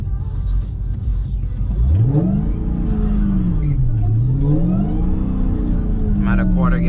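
A tuned SRT Hellcat revs hard on a wet street at night, loud and close from inside the car, its engine note sweeping up, dipping and climbing again, with a whine rising at the end.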